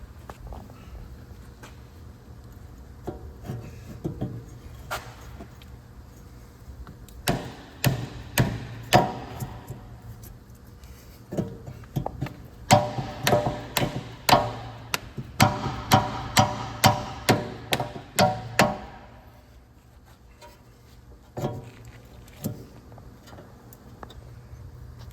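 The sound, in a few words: hammering car axle into wheel bearing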